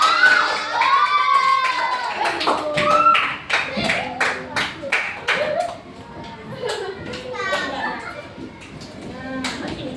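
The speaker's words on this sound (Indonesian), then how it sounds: "Kita kasih tepuk tangan untuk kelompok 3." Schoolchildren in a classroom clap together for a group of classmates, a burst of sharp, uneven hand claps mixed with children's voices and chatter throughout.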